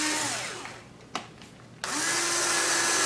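A power drill with a 1/16 inch bit bores a pilot hole into wood for a quad frame, whining loud and steady up close, briefly cutting out and then spinning back up at full speed.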